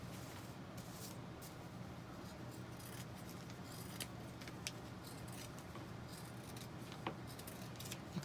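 Scissors snip through several stacked paper shapes at once in a homemade craft project, a steady run of quiet, close clicks and crisp cuts with no talking.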